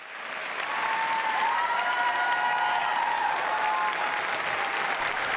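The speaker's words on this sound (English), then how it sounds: "Hillary Clinton was introduced in Dartmouth College Spalding Auditorium to applause and a standing ovation" Sustained applause from an auditorium audience giving a standing ovation at Dartmouth College's Spalding Auditorium, a dense, steady wash of clapping that swells in and holds without breaks.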